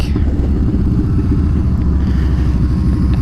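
A 2014 Yamaha Bolt R-Spec motorcycle idles close by with a loud, steady, throbbing low rumble and no talking over it.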